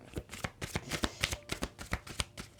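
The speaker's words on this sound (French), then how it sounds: "normalement, je retourne les cartes" Tarot cards are handled and turned over close by, making rapid, regular flicks and slaps of card stock, about a dozen crisp snaps in quick rhythm with no talking.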